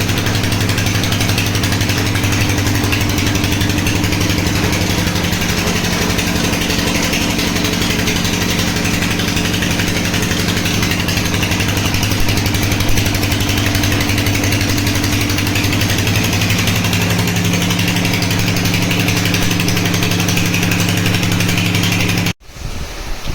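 A water pump motor running with a steady, loud droning hum that holds constant for a long stretch before cutting off abruptly at the end.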